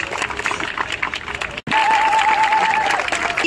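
Audience applause at a tribal conclave in Jamshedpur welcomes an artist from Nagaland, a busy wash of clapping that drops out abruptly for a split second, then resumes strongly while a steady tone sounds over it.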